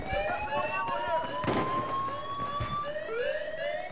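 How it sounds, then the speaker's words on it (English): Wailing siren in a video game, rising and falling tones layered over a busy background of gunfire-like bangs and game noise, moderately loud and continuous throughout. "where's that siren coming from?"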